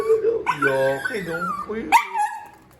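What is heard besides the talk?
dog whining and crying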